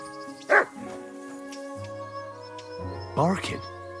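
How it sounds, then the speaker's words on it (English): Dog barking in the medieval video game Kingdom Come Deliverance II, with two short bursts of barks near the start and again toward the end over steady game music and ambience. "Barking."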